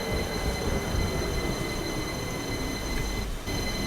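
A London Underground 2009 Stock train on the Victoria Line, simulated in the OpenBVE train game, runs with a steady broadband rumble and roar throughout, with a brief dip near the end and constant high tonal whine.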